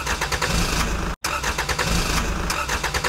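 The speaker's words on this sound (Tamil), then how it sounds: "டேய் சிண்டு, வண்டியை எங்கிட்டு கூட நான் ஸ்டார்ட் பண்ணி பாக்குறேன்." A cartoon vehicle's engine cranks and catches, running as a loud, continuous rumble with a brief dropout partway through, heard alone without talk.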